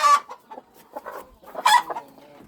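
A hen clucks in a backyard poultry yard, several short, close clucking bursts come in a loose, uneven rhythm, with one louder, more insistent squawk-like call near the end.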